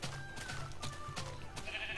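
Sheep in the Minecraft video game bleat several times in quick succession, moderately loud against a steady game background with no talking.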